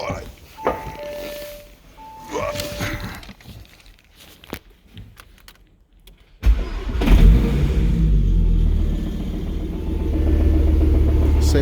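A car engine cranks with quiet clicks and footsteps, then catches and starts, settling into a loud, steady rumbling idle.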